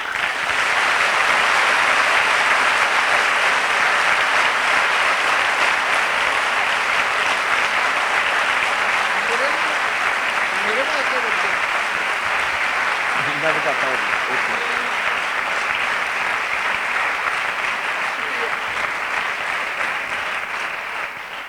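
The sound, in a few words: audience applause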